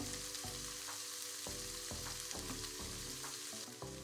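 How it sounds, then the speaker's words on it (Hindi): Paneer pieces frying lightly in a pan, a steady close sizzle running throughout with periodic stirring knocks and scrapes, no voices. "अब मैं इनको पैन में डालकर 2-3 मिनट तक हल्का सा फ्राई करूँगी।"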